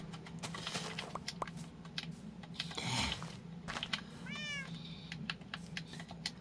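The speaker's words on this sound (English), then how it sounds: "We are not eating the cat." A cat meows in a video game, giving a clear rising meow midway through a busy bed of clicks, taps and low game ambience, with no voices.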